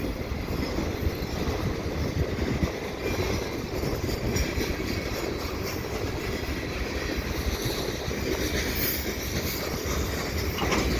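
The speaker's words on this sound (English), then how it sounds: "Hey, this train's slowing down." Freight train with graffiti-covered cars rolling past and slowing down on a windy day, continuous close rumble with faint clickety-clack and wheel noise, no talk.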